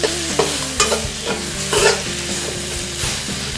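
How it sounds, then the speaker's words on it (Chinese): Crucian carp frying on both sides in a non-stick pan for milky fish soup, with a steady close sizzle broken by repeated scraping and stirring knocks of a utensil. "大家记住一定要两面煎，煎成金黄"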